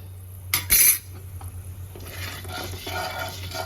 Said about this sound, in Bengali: এবার আমি ওই তেলের মধ্যে একটু কালো জিরা ফোড়ন দিয়ে দিলাম